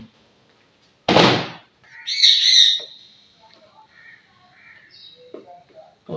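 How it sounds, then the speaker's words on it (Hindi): A parrot screeches in a household kitchen: one loud harsh burst, then a shrill squawking call, followed by fainter chirps and thin calls, with no talk over them. "तोता इस वक्त चीख रहा है, आपको बैकग्राउंड में आवाज़ आ रही है।"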